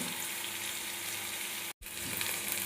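Chili powder, turmeric and salt sizzling in hot oil while being stirred for a Bengali pabda fish dish, a steady close frying hiss with a brief break.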